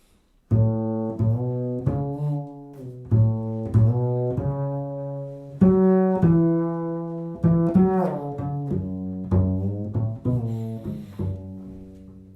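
A bluegrass bass plays a melody, a line of distinct plucked notes with slides, steady and clear, alone without any voices.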